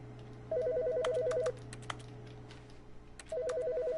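A telephone rings in the video game The Stanley Parable, two electronic ring bursts about a second long separated by a pause, with clicks and tapping between them over a low steady hum.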